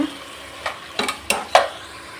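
Vegetables for palav fry in a pan, a soft sizzle under four short spatula scrapes and stirs, close and fairly loud.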